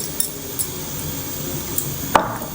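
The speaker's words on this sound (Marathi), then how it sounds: "हे आपण मिक्स करून देऊ थोडंसं कसं अजून स्मूथ होतं श्रीखंड" A spoon stirs saffron-infused milk into shrikhand in a bowl, giving a few light, scattered clinks against the dish over a soft, steady background.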